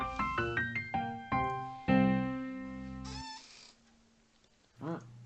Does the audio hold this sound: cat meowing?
yes